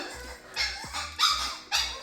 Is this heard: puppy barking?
yes